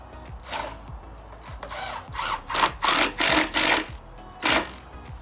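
A power drill drives screws into cheap plywood while building a ball python hatchling rack, with several short whirring bursts of rising pitch separated by brief pauses, close and fairly loud.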